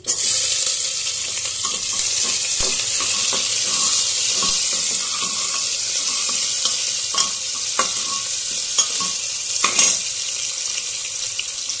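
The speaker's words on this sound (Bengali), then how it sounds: "এবার পেঁয়াজ কুচিটা আমি দিয়ে দিচ্ছি" Chopped onion hits a hot pan already holding cardamom, cloves and cinnamon for a home-style chicken dish, giving a continuous loud sizzle with scattered scraping clicks from stirring.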